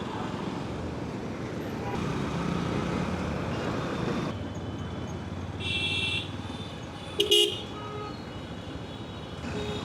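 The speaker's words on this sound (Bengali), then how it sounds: "সব ধরনের যানবাহন চলে এই রাস্তাটায়, সব ধরনের" Busy road traffic on Gulshan Link Road in Dhaka, a steady rumble of passing vehicles with a brief horn blast near the end.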